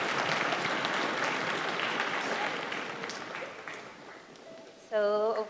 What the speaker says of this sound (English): So a round of applause to your community.